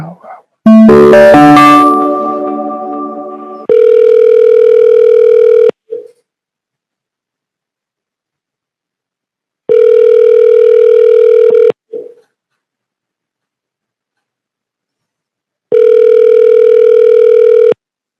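An outgoing phone call plays a loud ringback tone in three evenly spaced long pulses with silent gaps between them, after a brief burst of other phone sounds at the start.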